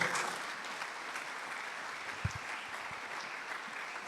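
A church congregation applauding during a service, steady clapping from a crowd heard at moderate distance and fairly soft, holding at an even level for a few seconds.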